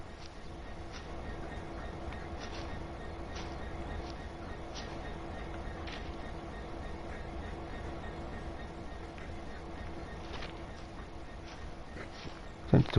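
A Class 66 freight locomotive in Train Sim World idles with a steady low diesel rumble, joined by scattered clanks and clicks, continuous and fairly close throughout.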